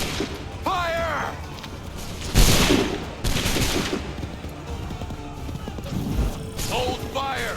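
Massed soldiers fire musket volleys in Assassin's Creed 3, with a loud ragged burst of gunfire followed by a second volley, set among battlefield din and shouted commands.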